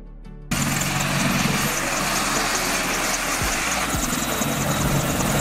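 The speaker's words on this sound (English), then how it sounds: "A helicopter used by the military for various roles, including transport, reconnaissance, search and rescue, and combat operations." A military helicopter's steady rotor and engine roar cuts in abruptly after a brief quieter lead-in, then holds loud and continuous with a few low thumps.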